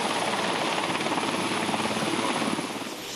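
An army helicopter flies over the flood-hit Termas del Flaco area of central Chile, its steady rotor thrum loud and continuous before easing slightly at the end, with no voices over it.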